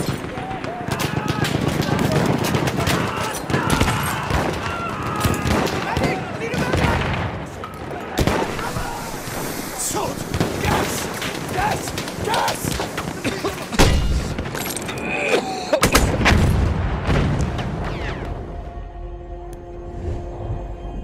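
Dense bursts of machine gun fire and heavy booms fill a Battlefield 1 battle, rattling continuously and loudly with explosions cutting through, while voices shout over the din.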